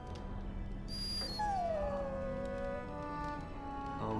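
A dog whimpers in the fantasy video game Dragon Age Origins, giving a high, drawn-out whine that slides downward and trails off, quiet and alone over a low ambient drone.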